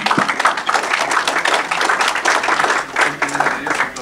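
An assembly audience applauds in approval of a proposal, dense continuous clapping from many hands filling the room at a fairly loud, even level throughout.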